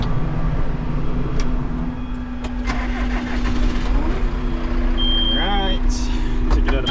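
Tractor engine cranking and starting up, a steady low rumble with a tonal hum and scattered clanks, with a rising whine and beeps later as talk comes in.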